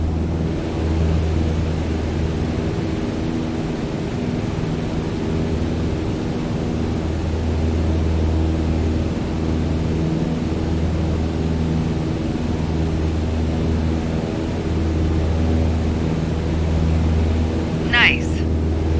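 Steady engine drone of a small airplane in flight in Flight Simulator 2020, a constant loud hum throughout, with an instructor voice talking over it.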